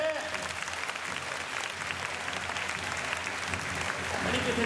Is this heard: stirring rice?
no